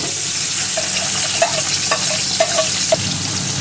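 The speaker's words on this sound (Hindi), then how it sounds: "तो अब इसमें मैं प्याज फ्राई करने के लिए डालूंगी।" Onions frying in hot oil in a cooking pot give a loud, dense, steady sizzle, broken by a few faint clinks of stirring, heard close with no voices.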